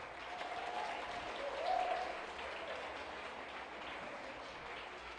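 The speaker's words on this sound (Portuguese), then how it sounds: "Você pode aplaudir ao Senhor com alegria aí?" A church conference audience applauds, a steady wash of clapping that swells briefly and then holds, distant and soft in a large hall.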